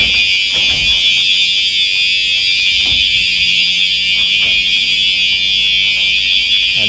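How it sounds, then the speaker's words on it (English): Building fire alarm going off at midnight, a loud, piercing, continuous electronic tone that holds steady without pause, with faint movement noises underneath. "And that is a fire alarm."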